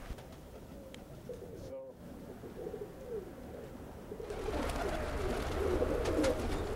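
Pigeons coo softly in a backyard loft, repeated low throaty calls that grow fuller and closer toward the end, over faint background noise.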